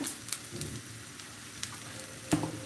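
Rice frying in a pot for pilaf gives a soft, low sizzle with a few sharp scraping clicks from stirring. It is quiet and fairly steady, with no talking.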